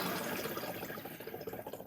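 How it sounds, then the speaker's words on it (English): Water runs steadily from a Boel iTap beer tap into a bottle while the beer line is rinsed, a continuous close gurgling flow without a break. "the water's running through the tap pert into the bottle"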